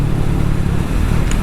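Triumph Thruxton 400 motorcycle engine running on the road, a loud, steady, close low drone with wind rush and no voices.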